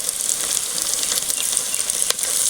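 Homegrown curry leaves hit hot oil with a bright, crackling hiss that holds steady for a couple of seconds, close and loud.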